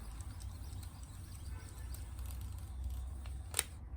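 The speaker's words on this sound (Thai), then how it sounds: "หมุนจนมีเสียงดังคลักนะครับผม" Faint, quiet mechanical turning from the rewind crank of an Olympus OM10 film camera, ending in a single sharp click near the end.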